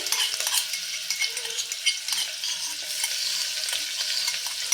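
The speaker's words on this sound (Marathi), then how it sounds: "मस्त बघा मिक्स करून घेऊया आणि तीस ते चाळीस सेकंद थोडंसं तेलावरती हे आपल्याला परतून घ्यायचं आहे" Crushed ginger-garlic and curry leaves sauté in oil with a continuous close crackling sizzle, while a utensil occasionally scrapes and taps the pan.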